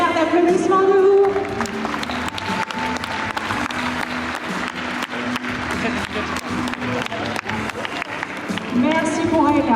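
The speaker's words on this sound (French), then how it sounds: "le tonnerre d'applaudissements de vous" An audience applauds at an aquarium show with a trained orca named Wikie, dense clapping running throughout, louder at the start and end, while a voice speaks over it.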